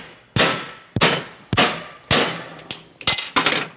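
A big hammer delivers five hard metallic clanging blows, about one every half second, with a couple of lighter taps between them, as it drives a universal joint cap through. The strikes are close and loud, and no one speaks.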